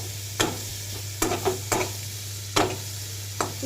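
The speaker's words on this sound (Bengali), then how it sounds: "উচ্ছেটা ভেজে নিচ্ছি।" Bitter gourd frying in a pan, a continuous oily sizzle broken by a few sharp scraping strokes of a spatula, close and fairly loud, no voices.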